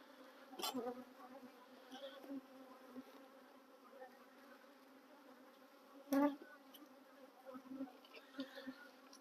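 A dense, continuous buzz of many honeybees around a hive hums nearby, rising and falling, with a few sharp clicks and bumps up close.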